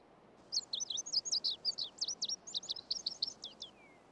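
A single courting bird sings a rapid run of bright, chirping phrases, close and clear over a quiet background, ending with a falling whistled note.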